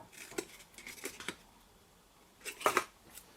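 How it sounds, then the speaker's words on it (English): Metal paper snips clink and rattle as they are picked up and handled near the bench while cutting a box, with scattered light clicks early and a louder cluster of clatter near the end, no talk. "Just going to grab my paper snips."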